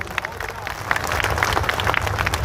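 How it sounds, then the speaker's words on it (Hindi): Mushaira audience in Mira Road breaking into steady applause, dense overlapping hand claps from a large crowd with a busy hubbub of voices underneath, sustained at even loudness throughout. "एक बार मुझे सारे लोग ताली बजा करके माहौल दें।"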